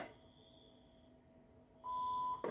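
A faint hum, then a sustained electronic beep from a Polytron Bluetooth speaker being reset, lasting about half a second, ending with a short click.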